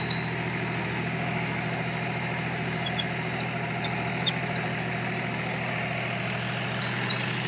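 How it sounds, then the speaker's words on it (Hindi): A John Deere 5105 4WD tractor engine runs a Maschio Virat Pro rotavator at a steady idle, a continuous low rumble with an even mechanical throb and no change in pace throughout. "कितने आरपीएम पे ट्रैक्टर चल रहा है।"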